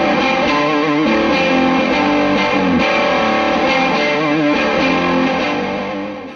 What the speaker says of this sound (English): a distortion pedal with huge possibilities but a tiny footprint